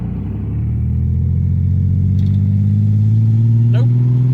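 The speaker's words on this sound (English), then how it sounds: "It used to be when I'd turn left and get on the throttle." A car's engine drones loud and close as it accelerates out of a left turn, a steady low rumble rising gradually in pitch, with a brief faint voice over it.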